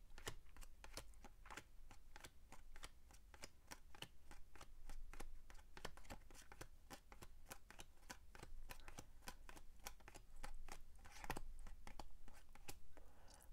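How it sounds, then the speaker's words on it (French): Lenormand card deck being cut and shuffled, a steady run of crisp riffling clicks and slaps close by, continuous throughout with a few louder snaps. "je coupe et recoupe"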